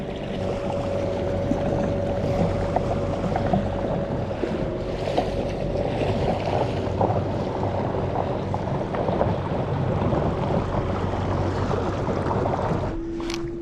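A 3HP electric outboard motor pushes a NuCanoe U10 canoe across open water, giving a steady whine over constant water and wind rush that holds throughout, then shifts in pitch near the end.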